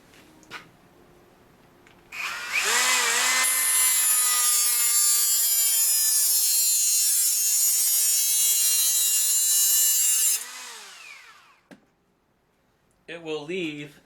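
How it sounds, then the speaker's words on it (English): A fiber cutoff wheel cuts through electrical conduit with a loud, steady, high-pitched whine lasting about eight seconds, then winds down. Someone speaks briefly afterwards. "I normally use one of these fiber cutoff type wheels. Goes through it very nicely,"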